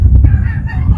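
Close, loud clucking from a chicken in a coop where rat snakes have got in, with low muffled noise around it.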